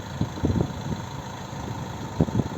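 Renault Megane III 1.5 dCi diesel with automatic gearbox, a 2011 car, idling steadily and quietly at close range, a low even engine hum with a few soft bumps and no voices.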